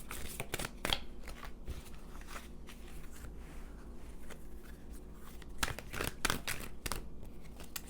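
Oracle cards are shuffled and handled close by, giving soft papery riffles and slaps in irregular bursts against a quiet room.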